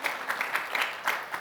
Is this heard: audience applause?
yes